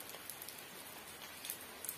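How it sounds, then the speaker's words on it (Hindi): Rain falls outside in a Himachal setting, a faint, steady hiss of drops pattering on surfaces with no voices over it. "तो देखिए अभी बाहर बारिश लगी है"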